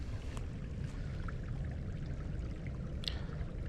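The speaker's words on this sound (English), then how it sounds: "A little bit of running water here." A small creek beside a wooded hiking trail, a steady soft trickle and gurgle of running water, faint and continuous, with a few tiny splashes.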